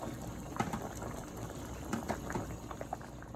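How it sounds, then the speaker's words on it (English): Goat feet soup bubbling at a low boil in a pot, soft irregular blips and pops over a steady simmering hiss, close and fairly quiet. "as you can see, my food boiling up"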